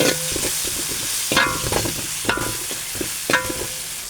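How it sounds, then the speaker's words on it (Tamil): Homemade ground garam masala powder fries in hot oil for a squid curry, making a continuous close sizzle with rhythmic metallic scraping and clinks of a spoon stirring the pan, with no voices. "கரம் மசாலா பொடி வீட்டில் இடித்தது வதக்க வதக்கி விட்டுருக்கோம் எண்ணெயிலே"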